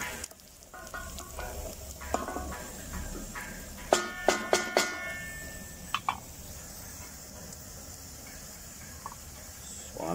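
Chopped onion sautés in a pan with a soft, continuous sizzle, broken by a short burst of clinks and scrapes from stirring partway through.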